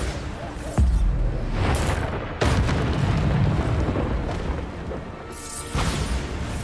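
Deep booming Bombarda explosion spells cast in Hogwarts Legacy, three loud concussive blasts at intervals, each with a sharp onset followed by a rumbling decay amid ongoing combat noise.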